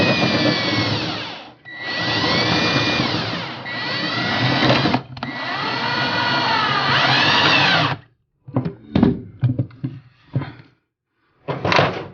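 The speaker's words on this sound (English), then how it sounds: "running the screws through the cabinet into the top of the microwave" A power drill whirs in several long sustained runs driving screws through a cabinet into the top of an over-the-range Samsung microwave, its motor pitch rising and falling, then stops for a handful of short, quick trigger bursts.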